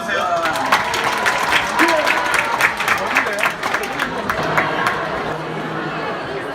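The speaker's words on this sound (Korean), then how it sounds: "박수로 환영해 주세요." Audience applause with scattered clapping and crowd chatter welcoming two student hosts at a school worship service, steady and moderately loud, thinning slightly toward the end.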